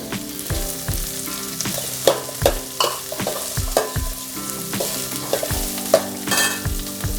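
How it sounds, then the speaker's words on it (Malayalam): Chopped onion and green chillies frying in a pan for egg stew, a steady loud sizzle with repeated sharp clanks and scrapes of a spoon stirring against the pan. "ഇതിലോട്ട് പച്ചമുളകും സബോള അരിഞ്ഞതും കൂടി ഇടുക."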